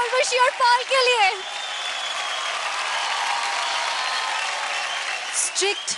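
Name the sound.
audience applause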